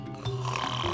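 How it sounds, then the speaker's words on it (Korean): A single loud, close snore from the sleeping wolf in a narrated Little Red Riding Hood bedtime story, a drawn-out rasping breath rising after a brief quieter moment. "코골이 소리가 들리더니"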